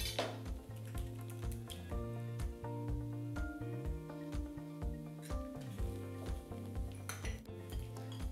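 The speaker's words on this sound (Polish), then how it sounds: "I teraz mieszamy naszą ugotowaną kaszę z owocami, z jajem." Cooked groats being mixed with fruit and a raw egg in a dish, giving a steady series of clinks, scrapes and soft squelches from a utensil against the bowl, close and fairly quiet with no talk.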